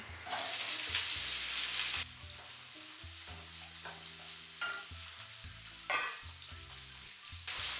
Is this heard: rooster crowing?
no